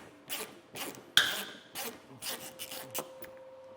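8mm screws come out of a bumper support on a 2023 Jeep Wrangler, a series of short scraping, ratcheting tool strokes with a sharp metallic click, close and fairly quiet.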